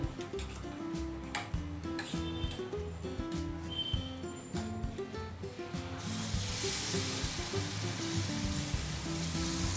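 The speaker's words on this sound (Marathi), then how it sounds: "तवा गरम झाला की त्यावर थोडंसं तेल घालून घ्यायचं" Music plays for several seconds, then a loud steady sizzle takes over as wheat-flour dosa batter hits a hot oiled griddle, hissing continuously up close.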